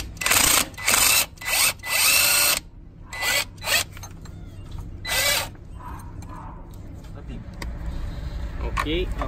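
Power tool, likely an impact drill, loosening the pivot nut on a Linhai 500 ATV during a CV boot repair, several loud whirring bursts in quick succession, then quieter ratcheting clicks and workshop noise.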